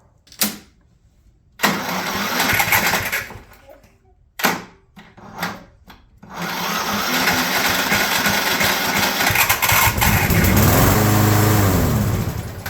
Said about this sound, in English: it just fired up no problem that time